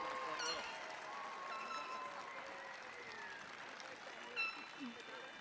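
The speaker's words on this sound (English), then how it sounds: "how about a big round of applause for all of our graduates?" A graduation crowd at a high school ceremony applauds the graduates, soft and distant clapping mixed with cheering voices, quiet and blended with murmuring.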